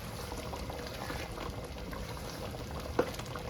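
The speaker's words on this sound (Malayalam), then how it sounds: "നന്നായിട്ടൊന്ന് ഇളക്കാം" Chicken curry with tomatoes simmers in a pot and gets a good stir, a soft low bubbling with faint scraping and a single sharp clink of the spoon against the pot near the end.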